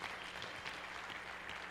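A church congregation applauds to God mid-sermon, a continuous wash of many hands clapping, steady and somewhat distant with no voices over it.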